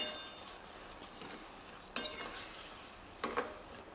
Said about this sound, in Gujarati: ગોળ કેરીના પલ્પ સાથે એકદમ સરસ મિક્સ કરી દેશું.